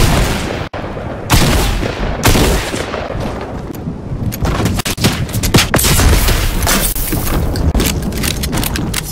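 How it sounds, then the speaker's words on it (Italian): Dense video game gunfire, sharp shots and booming blasts in rapid overlapping bursts, loud and close throughout, with no talking. "Sento spari."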